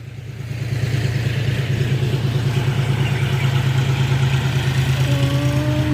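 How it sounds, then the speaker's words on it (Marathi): A nearby motorcycle engine revs up and holds a loud, steady droning rumble, with a brief rising whine near the end. "हे लोक मोटरसायकल घेऊन कुदत आहे बर का"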